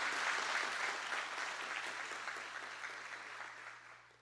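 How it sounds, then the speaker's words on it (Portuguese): A church congregation applauds in a dense, steady wash of clapping that starts strong and gradually tapers off over a few seconds, with no voices over it and a low constant hum beneath. "uma salva de palmas a eles também"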